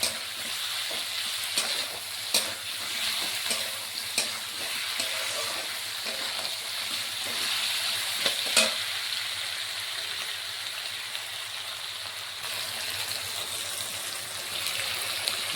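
Potatoes and tomatoes with salt fry in a pan for a Bengali fish rasha, giving a steady soft sizzle with faint scraping and stirring taps throughout, no voices.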